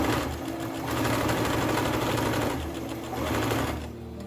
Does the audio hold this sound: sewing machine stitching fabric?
yes